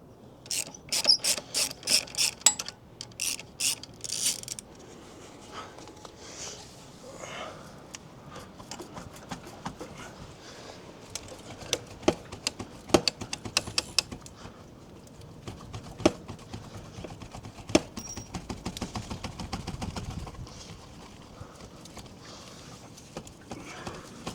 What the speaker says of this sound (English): I'm going to undo that bolt.